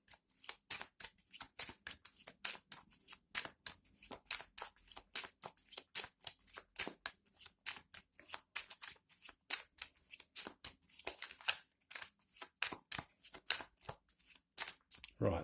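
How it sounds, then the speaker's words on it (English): A deck of tarot cards is shuffled by hand, a quiet, close rapid riffling of flicks and slaps in a steady rhythm running throughout, with no talking. "then we'll just give it a random shuffle"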